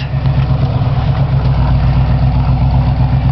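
A 1975 Ford Bronco's 351 Windsor V8 idles steadily nearby, a deep, even rumble with a regular low throb and no voices.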